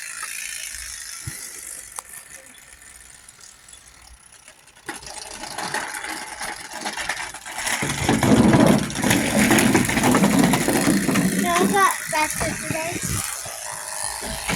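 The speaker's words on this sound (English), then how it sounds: "Put cards on the bike, sound like a little motorbike." A rapid mechanical clatter of playing cards flapping against bicycle spokes, rising to a buzzing, motor-like whir, with voices talking over it.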